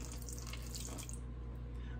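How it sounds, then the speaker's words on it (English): Pineapple juice is poured in a steady, trickling stream into cake batter in a kitchen, a soft, continuous liquid splash with nobody talking. "instead of half a cup of vegetable oil, I'm going to use half a cup of pineapple juice"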